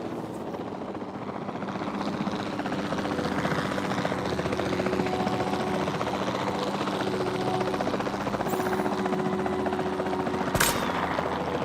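A video game helicopter's rotor thumps steadily and loudly throughout in Jurassic World Evolution, with a sharp crack near the end as a tranquilizer shot is fired at a dinosaur.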